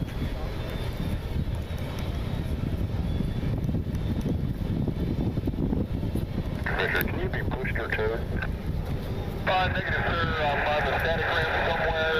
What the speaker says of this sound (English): Sound like the A-10 is inbound